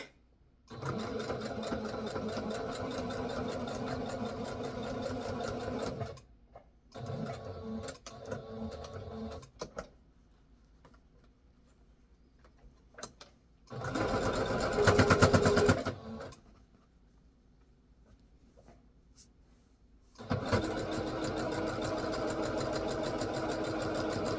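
A sewing machine stitches with shirring thread in several steady whirring bursts separated by pauses, with one louder, brighter run partway through, heard close and alone without voices.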